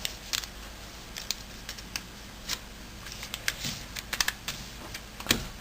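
Paper is folded and creased for an origami flapping bird, giving scattered crisp crackles and taps at an irregular pace, close and fairly quiet.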